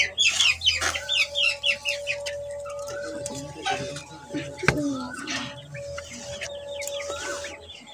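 Pet hens cluck in a rhythmic series of short, close calls, with further scattered clucks and clatter as a person talks quietly in the background.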